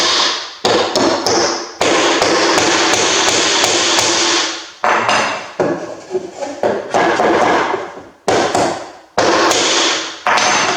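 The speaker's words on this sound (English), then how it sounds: "Hammer it in a little more." Repeated loud hammer blows driving nails into wood for a bat house, ringing close up, a steady run of sharp strikes with brief pauses between bursts.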